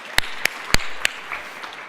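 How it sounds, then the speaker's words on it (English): A few separate handclaps ring out from a keynote audience at an education summit, four sharp claps spaced evenly apart in a large room. No sustained applause follows. "That's worth a clap."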